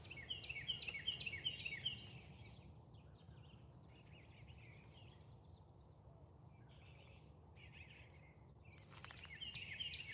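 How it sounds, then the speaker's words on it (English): Birds chirping and singing outdoors by a dock during a catfishing outing, bright repeated calls loudest at the start and returning near the end over a low steady background murmur. "listen to the birds"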